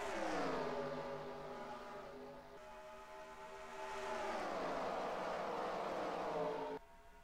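Stock cars racing on the Kentucky track in the NR2003 racing game, a steady loud engine drone that sweeps up and down in pitch as cars pass, with no voices over it.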